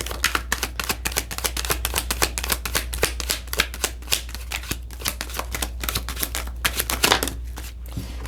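Tarot cards are shuffled in a rapid flurry of papery riffling and slapping, close up, with a low steady hum underneath.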